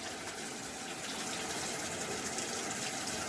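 Tap water gushes steadily from a faucet, a continuous close, even rush of running water with no voices.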